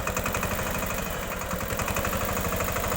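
A Massey Ferguson 5118 tractor with an 18 HP engine plows a field, its close, steady diesel chugging pulsing in an even rhythm throughout, with no voices.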